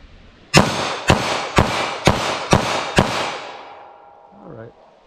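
Six sharp gunshots from a .32 H&R Magnum snub-nose revolver fire at a steady pace about half a second apart, loud and close, each ringing out briefly before a faint clatter at the end.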